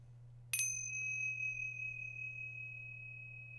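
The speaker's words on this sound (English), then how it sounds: "I'm going to ring the bell." A single bell struck once during a livestream, a clear bright ding that rings out and fades slowly over a few seconds above a steady low hum.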